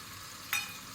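Vegetables for mixed fried rice frying in a pan, with a steady faint sizzling hiss and a brief louder crackle midway as they hit the oil.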